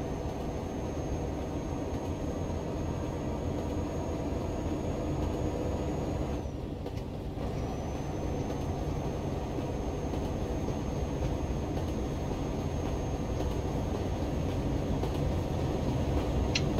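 A slow train rolls alongside in Euro Truck Simulator 2, a steady low rumble of rail cars with a faint high whine that briefly cuts out midway, no talking.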